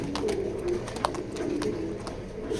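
Soft, low cooing from racing pigeons in a loft, repeated in short throaty phrases over a steady background murmur, with a brief sharp click partway through.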